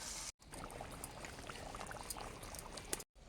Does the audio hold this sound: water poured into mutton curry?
yes